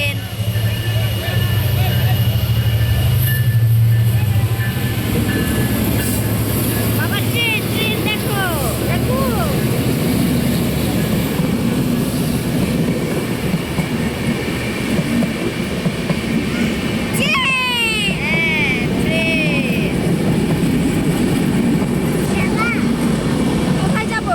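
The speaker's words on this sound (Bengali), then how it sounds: "এখন ট্রেন আসবে" A loud, steady train rumble fills the whole stretch, with occasional high squeals and voices faintly murmuring underneath.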